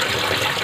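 Snails being rinsed in water give a brief, steady wash of splashing and sloshing, close and moderately loud.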